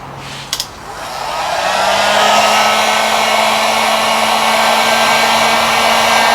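A heat gun shrinks heat wrap over PC cables. After two quick clicks it starts up and builds into a loud, steady blowing roar with a constant motor whine, heard close and with no talk.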